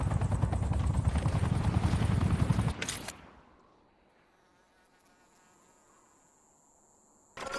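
Helicopter rotor in the mobile shooter Call of Duty Warzone Mobile, a loud dense whirring chop for about three seconds that cuts off abruptly, leaving quiet faint ambience with a thin high tone.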